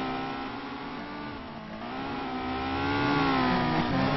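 Several race cars in the SimPro racing video game, 900-pound machines of about 500 to 600 horsepower, drone and rev steadily in a feature race, a continuous engine whine that swells louder toward the end.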